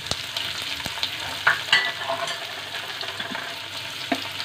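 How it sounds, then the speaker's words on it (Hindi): Ginger, garlic, green chilli, onion, carrot, spring onion, cabbage and capsicum stir-fry over high heat for Hakka noodles, a loud sizzling hiss broken by spatula clanks and scrapes against the pan. "अब हम इस सब्जी को तेज आंच पे भूनेंगे।"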